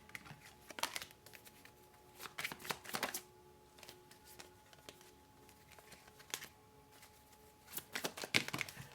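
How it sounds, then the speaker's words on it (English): Playing cards spill and get shuffled in quick riffling bursts, soft and close, separated by quiet pauses with a faint background hum. "Oh, the cards are going everywhere."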